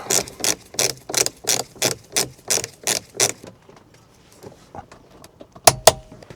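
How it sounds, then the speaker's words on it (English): A torque wrench tightening a bolt to 60 Nm on a BMW X5 steering wheel, giving about a dozen sharp, evenly spaced ratcheting clicks up close, then a quiet pause and two final clicks. "use a torque wrench and adjust it to 60 Newton meters"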